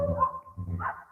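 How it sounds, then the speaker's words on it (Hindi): Dogs bark loudly on a road at night, two or three close, sharp bursts in about a second with a brief pause between them. "कुत्ते भी भौंक रहे हैं बहुत जोरदार से"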